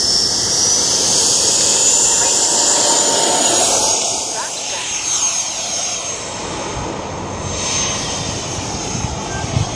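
A Freewing FA-18 radio-controlled model jet takes off, its electric ducted fan giving a loud, continuous high-pitched whine and rushing roar that stays strong throughout, nearby and outdoors, briefly shifting in pitch as it passes.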